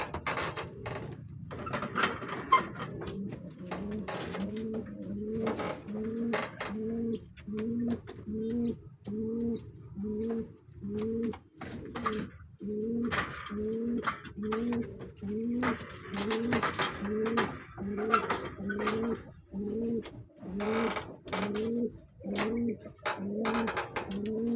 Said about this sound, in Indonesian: Ini ada merpati sepasang